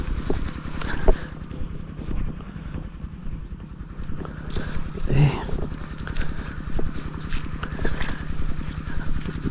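A small boat's motor runs steadily close by, a fast rhythmic thrumming with some wind noise and a brief voice over it.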